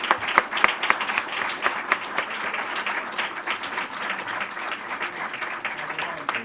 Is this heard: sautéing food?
no